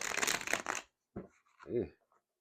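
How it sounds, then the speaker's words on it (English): Tarot cards are shuffled in a dense, close riffle for under a second, then a short pause before a voice briefly speaks. "We're going to stop right there with the shuffles."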